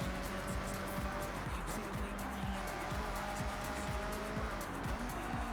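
A Subaru BRZ races on a mountain touge road in the Forza Horizon video game, its engine note rising and falling through repeated gear shifts with tire noise, steady and fairly loud.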